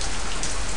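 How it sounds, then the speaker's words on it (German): Heavy rain pours down in the Zafehouse: Diaries video game, a loud, dense, steady hiss of drops with no other sounds. "Denn es regnet ja so stark, dass hier eigentlich nichts passieren dürfte."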